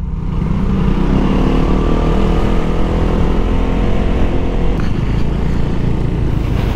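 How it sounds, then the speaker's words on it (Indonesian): A Honda Vario 160 scooter fitted with a WRX GP3 exhaust drones steadily at close range, a continuous engine note mixed with rushing wind and no talking. "kalau kita bawa motor pakai knalpot WRX ini atau Kares sih gua akuin masih lebih berisik guys"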